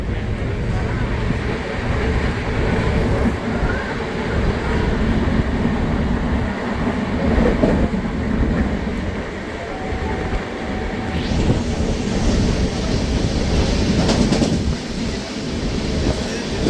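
Dhauli Express train on the Puri to Shalimar line running at high speed, a steady loud rumble and rattle of wheels and carriages throughout, with a brief passing tone and occasional voices faintly underneath.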